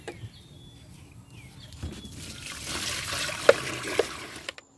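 Water poured into a trough as drinking water for cattle, mixed with hammered corn bran and salt on a farm, a soft steady trickle and splash building over several seconds, with faint bird calls nearby.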